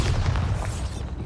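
A Bombarda blasting spell goes off in Hogwarts Legacy, a short, loud, full-bodied explosive boom with a rumbling low end that fades after about a second.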